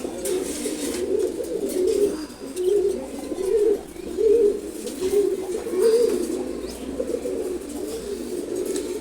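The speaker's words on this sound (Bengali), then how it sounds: "খাকি কবুতরগুলো অ্যাকচুয়ালি খুবই ফ্রেন্ডলি হয়" Khaki pigeons in a cage give repeated low, throaty coos in a steady rolling rhythm, fairly close and clear, with no talk over them.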